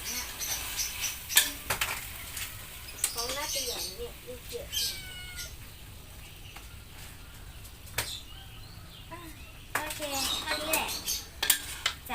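A spoon clinks and scrapes against a pan while stir-fried kale with canned fish is dished up. Short metallic knocks are scattered through the clip, with a cat meowing and voices talking in the background.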